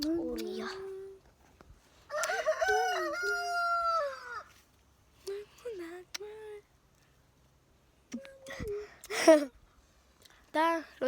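A rooster crows several times close by in a farmyard, loud drawn-out calls with pauses between them, mixed with clucking and people talking nearby.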